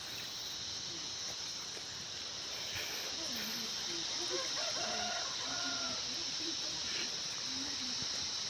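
Chickens cluck in short, repeated notes close by during a village tour in Dhalachung, over steady insect-like buzzing and background murmur, with a rooster's crow rising in the middle.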